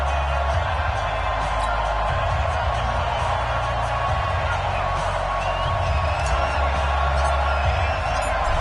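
A crowd roars steadily in a stadium during an EA Sports NFL video game matchup between the Colts and Steelers, a dense, loud wash of cheering that continues throughout alongside an announcer's voice.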